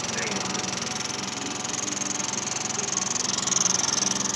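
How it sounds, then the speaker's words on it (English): A small Wilesco D8 toy steam engine runs with a fast, even chuffing and hissing rhythm, steady and close throughout, with no talk. "Just picked up this little steam engine. This is a Wilesco D8"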